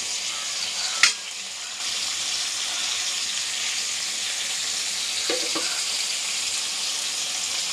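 Tomatoes and tamarind sautéing in a pan for mint pachadi give a steady, close sizzle across the clip, with a sharp clack near the start and a few soft stirring scrapes toward the end.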